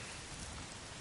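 Steady, dense rain falls and patters across surfaces in the video game Days Gone, a constant wash of sound with no voices.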